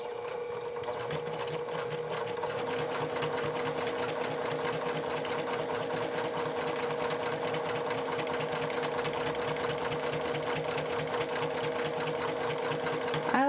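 Sewing machine stitching fabric for a round drawstring bag, a steady close mechanical whir of rapid needle strokes running continuously for the whole stretch, with no break for the back stitch.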